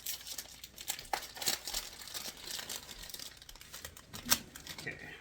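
Cellophane wrapping crinkles and crackles as imported plants are pulled free, quiet, close, irregular rustling bursts with a few sharper snaps.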